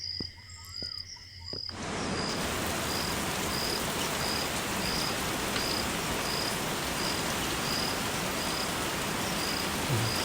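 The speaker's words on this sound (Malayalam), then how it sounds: "നല്ല മഴയാ." Steady, dense hiss of heavy rain that starts abruptly after a quieter moment and continues loudly and evenly, with a faint repeating chirp riding above it.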